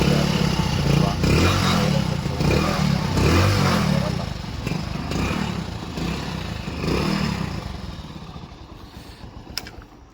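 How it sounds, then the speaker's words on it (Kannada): A Hero Splendor motorcycle with a stone in its silencer runs steadily close by with a loud, rough, clattering exhaust beat that fades slightly toward the end. "ಗಾಡಿ ನಾನು ಸ್ಟಾರ್ಟ್ ಮಾಡಿ ನಿಮಗೆ ತೋರಿಸ್ತೀನಿ."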